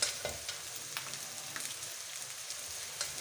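Okra fries in a pan with a soft, steady sizzle and crackle, faint and continuous, with no voices.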